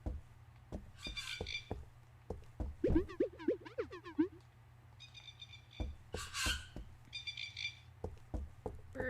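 Birds in the video game Epic Chef chirp and trill in short repeated bursts, mixed with knocking taps and a low hum, heard close and at moderate volume.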